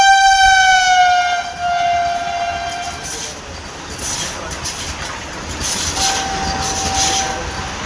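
Vande Bharat train passing near Jejuri, its horn sounding in long sustained tones for about three seconds, followed by a steady loud rumble of wheels on rails, with a short horn blast again near the end.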